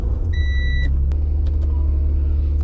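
An Acura NSX engine rumbles low and close as the car is driven back into a garage, a steady throb joined briefly by a short electronic chime and a few faint clicks.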